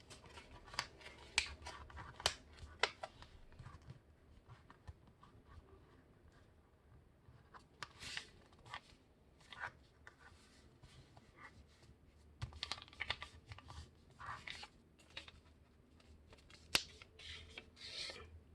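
Sheet of paper being folded edge to edge and creased for an F-15 Eagle paper airplane, a series of faint, close crinkles, rubs and sharp swipes in irregular bursts with no talking.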